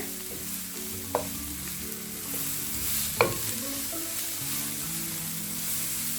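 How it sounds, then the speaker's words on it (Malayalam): Onion and finely chopped cabbage sautéed in a pan for chicken spring roll filling produce a steady soft sizzle, with a couple of sharp spatula knocks against the pan, close by and without talk. "അതും ചേർത്തിട്ട് നന്നായി വഴറ്റി കൊടുക്കുക"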